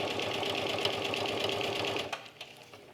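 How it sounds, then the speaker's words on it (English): A sewing machine stitches a half-inch seam on a cork fabric tote bag. The steady, close motor hum runs continuously for about two seconds, then cuts off abruptly, leaving a few faint clicks. "keep sewing to the opposite corner"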